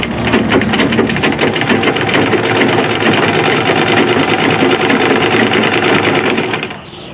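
A sewing machine stitches fabric for a scrunchie in one loud, close, continuous run with a fast even rattling rhythm, stopping abruptly near the end.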